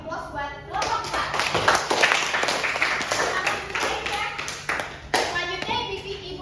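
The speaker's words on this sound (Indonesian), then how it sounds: "Beri aplaus buat kelompok 4" A classroom of pupils claps for group 4 after its presentation, with a steady burst of hand applause lasting several seconds, close by, mixed with some children's voices and chatter.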